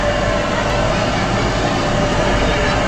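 Nilgiri Mountain Railway toy train standing while it takes on water, a loud, steady rumbling and hissing wash that stays constant throughout with no speech.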